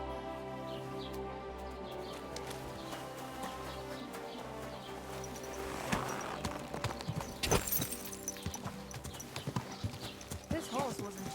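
Steady clip-clop of horse hooves with a whinny, over a droning musical background and faint birdsong, from the video game Kingdom Come: Deliverance 2.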